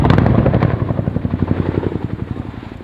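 A Chinook twin-rotor helicopter flies its display at the 2011 Fairford airshow, its loud, close rotor blades beating a fast, steady rhythmic thump throughout.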